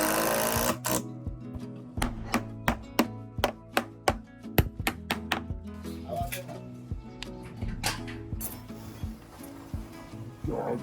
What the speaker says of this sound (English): The guys are using matching impact drivers to drive screws.